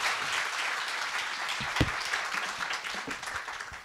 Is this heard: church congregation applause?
yes